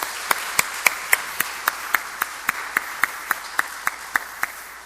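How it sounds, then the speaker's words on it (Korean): Applause from a parish youth faith-education gathering at a Catholic church, heard as a slow, evenly spaced run of sharp single claps about four per second, fairly faint and fading toward the end. "박수 한 번 더 주세요."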